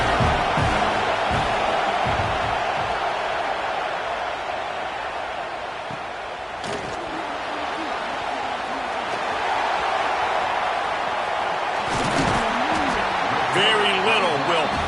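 A football stadium crowd roars through a Razorbacks punt return, a broad sustained wall of cheering that swells near the end, with a commentator talking over it.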